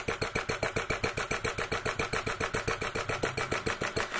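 Retrol model mill engine running steadily, a fast even chuffing beat of about six strokes per second, close and clear, with no voices.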